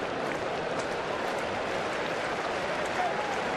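Twins fans cheer in the stands at a Minnesota Twins home baseball game against the Los Angeles Dodgers, a steady, broad crowd roar that holds at an even level throughout without pauses.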